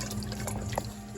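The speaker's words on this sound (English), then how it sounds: "Added a 1/4 cup of hot water. A teaspoon of sugar. Mix that up" Sugar being stirred into a quarter cup of hot water in a warmed bowl, giving a steady wet swishing and sloshing with faint clinks, close and continuous.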